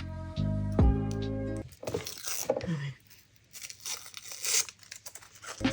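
Protective plastic film peeled off a Nintendo Switch OLED console, a close crinkling, tearing rip following a stretch of tonal music, with scattered rustles and soft handling noises afterward.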